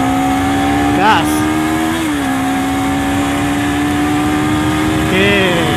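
A Honda CBR250RR's engine roars steadily at night on Ring Road, its pitch sliding as gears change, with a voice speaking briefly over the loud, close, continuous sound.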